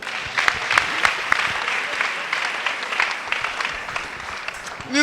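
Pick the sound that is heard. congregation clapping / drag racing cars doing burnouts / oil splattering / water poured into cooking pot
congregation clapping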